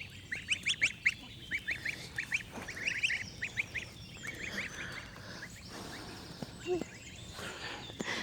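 Ducks quack repeatedly in a busy cluster nearby, their harsh calls fading into softer scattered quacks and background noise.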